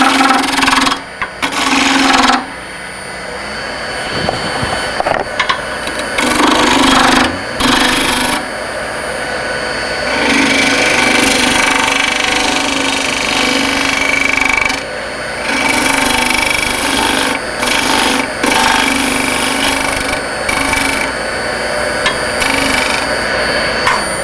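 Deep fluted gouge cutting a slightly out-of-round wooden sphere on a lathe, a loud continuous rough scraping and humming with brief breaks as the tool lifts and re-engages.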